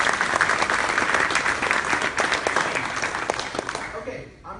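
A room full of people at a pitch session clapping together, dense sustained applause at steady volume that fades out at the very end.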